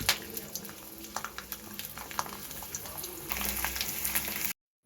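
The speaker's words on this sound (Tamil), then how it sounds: "எண்ணெய் காஞ்சதுக்கப்புறம் எடுத்து வச்சுருக்க பூண்டை போட்டு, பூண்டு நல்லா வதங்கணும்." Garlic sizzles and sautés in hot oil in a pan for a traditional homemade pickle, a steady crackling fry with scattered pops that grows slightly louder toward the end before cutting off.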